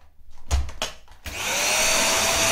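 A Dyson vacuum cleaner gives a few knocks and thumps, then starts and settles into a loud, steady, high whirring whine of suction that runs to the end.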